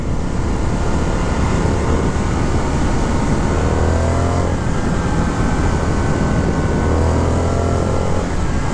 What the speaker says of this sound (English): What a nice noise. This engine makes a beautiful purring sound.